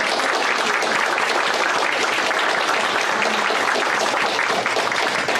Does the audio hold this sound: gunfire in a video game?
no